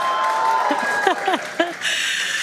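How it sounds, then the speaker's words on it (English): A crowd cheers and applauds during the fourth SpaceX Starship test flight launch from Texas, with a steady wash of clapping and noise broken by a few short, loud excited shouts rising above it. "you can hear the crowd is very excited about it"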